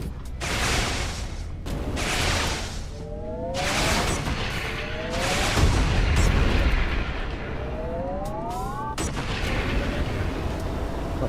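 Heavy rail cannon shots from a space video game boom out one after another, each a loud blast with a rising synthetic whine trailing after some of them.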